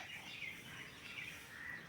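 A pair of house sparrows chirping at their nest with young inside a house, a steady run of high, bright chirps at close range, continuous and fairly faint with no talk.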